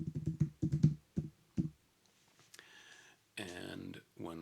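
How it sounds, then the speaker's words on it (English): Quick bursts of close computer keyboard key clicks as a hashtag is typed, a fast cluster of taps followed by a few separate strokes, then a brief voice near the end. "you type the hashtag that you want to use in the center"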